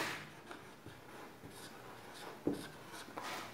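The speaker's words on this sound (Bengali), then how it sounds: "আমরা লিখব এই বিবৃতিটা" A pen scratches across paper while a math statement is written by hand, with soft, close strokes and taps in uneven bursts in a quiet room.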